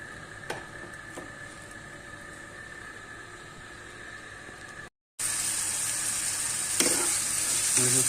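Chopped onion and green chili sizzle steadily in hot oil in a home kitchen pan, the frying hiss growing louder and brighter after a brief gap, with no talking.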